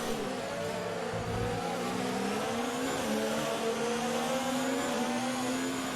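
Steady rushing wind noise over a droning Formula 1 car engine in the F1 2019 racing video game, continuous and fairly loud throughout.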